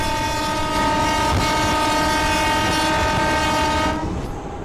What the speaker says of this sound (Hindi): चलो एक बार हॉर्न बजा के फिर डिपार्ट करते हैं और स्पीड बढ़ा रहा हूँ मैं धीरे धीरे।